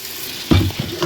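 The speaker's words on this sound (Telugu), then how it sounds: "ఈ అల్లం వెల్లుల్లి పేస్ట్ కొంచెం పచ్చివాసన పోయే వరకు ఫ్రై కావాలి" Ginger garlic paste frying in a pan, a steady sizzle that swells sharply as it is stirred, with a few short scraping bursts close by.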